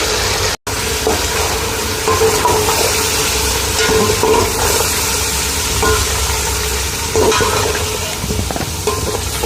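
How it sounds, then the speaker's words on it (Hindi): Chicken for degi chicken qorma frying with masala in a pot, a loud continuous sizzle and hiss with soft stirring scrapes and one momentary cutout early on. "इसको हम अच्छी तरह से फ्राई करेंगे। इसमें अब हमने मसाला डाल दिया सारा।"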